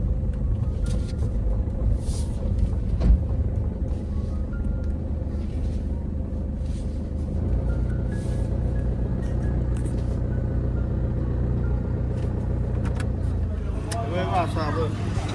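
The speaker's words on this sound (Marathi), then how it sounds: "आपण देखील व्यवस्थित चढवायची आहे गाडी फेरीबोटीमध्ये" A car drives onto a ferry boat at Jaigad, a steady low engine rumble with vehicle noise running throughout, close and continuous, with people talking over it.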